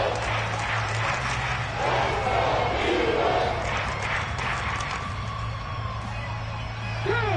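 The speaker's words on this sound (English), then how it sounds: "Plenty of shouts from this crowd as they watch the replay." Broad crowd roar from an American football video game, Vikings versus Eagles, swelling and shouting steadily throughout with a commentator's voice over it.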